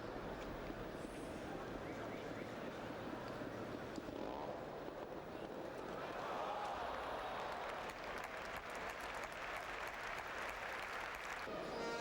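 Ovation rising from the stands of an indoor motorcycle trial arena, a dense, steady wash of clapping and crowd noise that swells slightly midway and carries on throughout.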